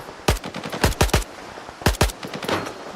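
Gunfire in the shooter game S.T.A.L.K.E.R. 2: Heart of Chornobyl, with sharp close rifle shots coming singly and in quick pairs and triplets, then a short burst and fading echoes.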